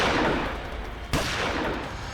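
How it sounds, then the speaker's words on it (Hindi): A single sharp gunshot cracks in the middle of a tense scene in a crime drama, set against a dull low rumble. "इसी बीच हम पर गोलियां चलने लगी"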